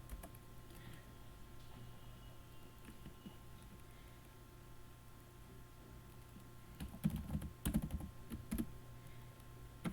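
Typing on a computer keyboard while writing code in Scilab, a steady patter of soft keystrokes throughout that turns into a louder, denser burst of clacks near the end.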